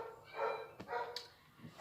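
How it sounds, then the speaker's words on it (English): A pet dog barks somewhere in the house, two or three short barks at moderate distance with no one speaking over them. "I don't know why my dog is barking"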